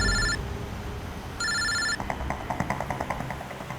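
A telephone rings in two bursts of a bright electronic bell tone during a call, then a rapid string of faint beeping tones follows; no talking.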